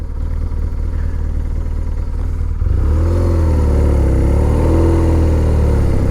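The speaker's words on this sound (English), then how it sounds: "So I'm going to start this bike in second gear." A motorcycle engine idles, then revs up loudly as the bike is started off in second gear and pulls away, the engine note rising and steady close to the listener.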